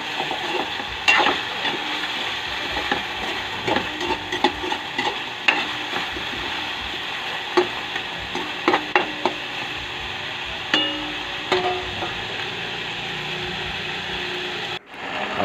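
Chicken feet for sweet adobo are stirred in a hot pan, giving repeated scraping clacks of a utensil against metal over a constant sizzle, continuous for the whole stretch, with no talking.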